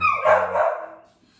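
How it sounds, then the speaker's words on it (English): A dog gives a single loud, close bark with a short yelping tail that fades quickly into quiet. "that's my dog Raya"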